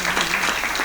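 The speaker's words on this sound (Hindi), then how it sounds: "एक बार जोर से ताली आप बजा दो।" Audience applause at a Hindi comic poetry gathering, a short dense burst of clapping from a crowd, loud and steady through the brief moment.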